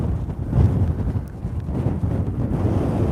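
Strong wind buffets the microphone at an Iceland volcano crater, a steady low roar with gusty surges throughout and no voices.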